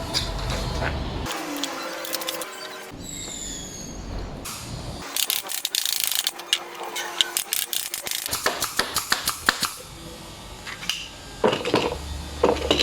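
Rapid sharp mechanical snaps and clacks in irregular bursts, close by, like a pneumatic nail gun firing repeatedly, with clattering in between.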